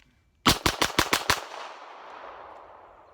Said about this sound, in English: we'll shoot that one more time.